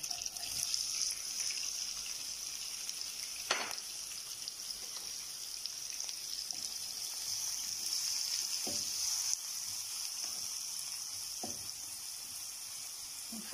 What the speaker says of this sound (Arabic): نخلي البصل يتقلى واحد شويه